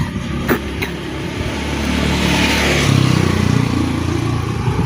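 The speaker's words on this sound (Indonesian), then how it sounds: "Itu motor," A motorcycle engine idles near a mountain trail on Mount Andong, then revs up and holds a steady, louder drone toward the end, with no talking.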